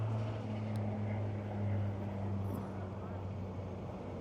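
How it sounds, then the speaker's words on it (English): A loud propeller airplane passes low overhead while circling, a steady droning hum with a strong low tone that holds throughout, heard outdoors alongside light background noise. "That's a pretty loud airplane."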